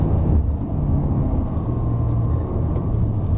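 A Toyota Corolla Cross drives uphill on the Genting test route, heard from inside the cabin as a steady, loud low engine and road rumble with no clear changes.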